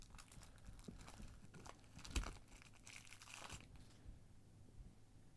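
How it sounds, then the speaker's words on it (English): Crinkling and tearing of plastic wrap as a deck of cards from a board game box is unwrapped, close and quiet, with a few sharper crackles and rustles before fading. "So let's take a look at this deck of cards."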